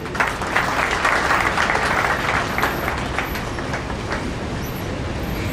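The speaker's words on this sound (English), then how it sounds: "please a big round of applause for Dr. Paul." Conference attendees applaud for a speaker, a broad, continuous patter of many hands that swells early and then holds at a steady, slightly distant level.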